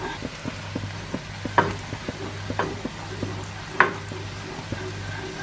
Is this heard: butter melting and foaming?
yes